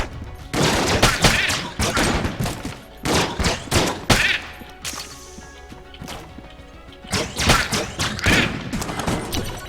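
Rapid volleys of loud, punchy gun blasts from a weapon in Enter the Gungeon, firing in dense bursts with short gaps between them and crashing impacts mixed in.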